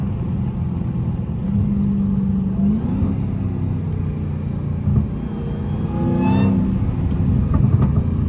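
Inside a Dodge Hellcat on the road, a steady low engine rumble fills the cabin, with a rising whine sweeping up briefly as the car accelerates.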